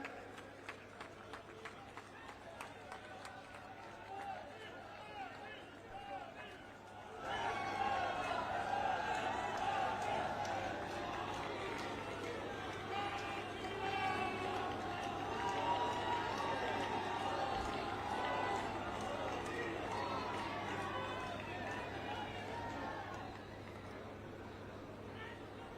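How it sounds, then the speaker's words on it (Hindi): A large crowd at a political rally greets the Prime Minister and the party president arriving on stage, swelling from scattered claps into loud, sustained applause and cheering. "आदरणीय प्रधानमंत्री जी और आदरणीय अध्यक्ष जी का मंच पर जोरदार तालियों से हम स्वागत कर रहे हैं"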